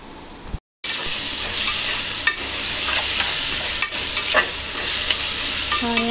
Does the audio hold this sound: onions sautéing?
yes